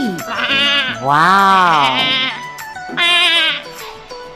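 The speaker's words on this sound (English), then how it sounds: "Oh, look at the flock of sheep." Sheep in a farm flock bleat loudly and close by, three long wavering calls in a row, with a brief spoken exclamation.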